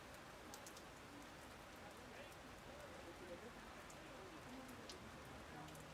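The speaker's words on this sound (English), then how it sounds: "the rain is just continuing to hammer down here at the Ontario Soccer Centre" Heavy rain pouring steadily onto an outdoor soccer field at the Ontario Soccer Centre during a men's match, a dense constant hiss with scattered drops, no voices over it.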